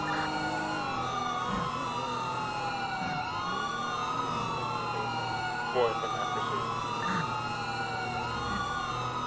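Loud wailing police siren in GTA 5 cycles continuously in a repeating rise-and-fall sweep, close and dominant throughout, with someone talking over it.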